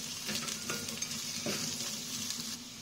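Ginger and garlic sautéing in a pan, a soft continuous sizzle with a faint hum beneath and occasional light clicks of a utensil stirring, fairly quiet and steady.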